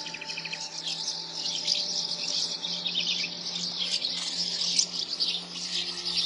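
Many birds call together in a crowded nesting colony, a dense continuous chorus of high chirps and squawks with steady background hum, no voices.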